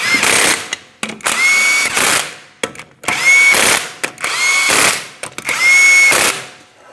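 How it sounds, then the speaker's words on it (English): A power tool whirs in three long, loud bursts with brief pauses between them, driving the 21mm lug nuts onto a Ford Transit wheel after a brake dust shield replacement. "go ahead and start on all 5 of your 21mm lug nuts"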